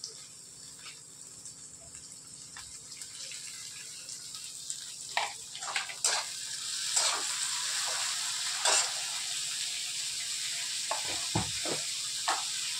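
Chopped onion and tomato sizzle in a pan while a vegetable dish is cooked, with a quiet, steady frying hiss. Scattered stirring scrapes and clinks of a spoon punctuate the frying, and no one speaks.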